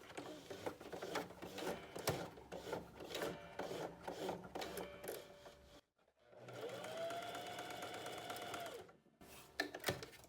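Sewing machine stitching a blouse with mandarin sleeves and a priest collar, rapid rhythmic needle clatter in bursts, a brief pause, then a steadier whirring run and a few final taps.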